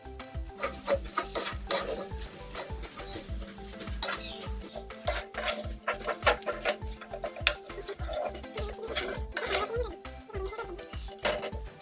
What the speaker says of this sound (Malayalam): ഇനി ഒന്നും കൂടെ ഇതെല്ലാം കൂടെ കൂട്ടി ഇളക്കണം.